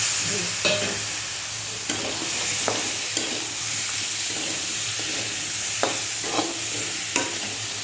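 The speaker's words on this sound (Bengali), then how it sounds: "এবারে আমি সেই কাঁকড়াটা সব দিয়ে দেবো।" Crab pieces sizzle and fry steadily in a hot pan, with a constant close hiss broken by scraping stirs and a few soft knocks of the spatula; nobody speaks.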